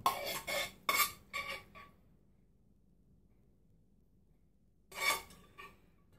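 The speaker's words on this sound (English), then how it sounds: "So now we're just going to put a spoonful of this on the plate." A spoon scrapes and taps as cooked quinoa is scooped onto a plate, with a few short clinking bursts at first, a quiet pause, then another brief scrape near the end.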